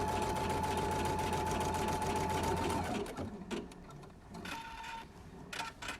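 An embroidery machine stitches an in-the-hoop quilt piece with a fast, steady mechanical chatter for about three seconds, then stops, leaving a few softer clicks and handling sounds.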